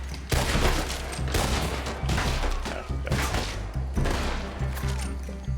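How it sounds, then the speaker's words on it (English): Dense, continuous gunfire from the video game Red Dead Redemption II, a sustained barrage of loud overlapping shots and thuds with no pauses between them. "They started shooting at me."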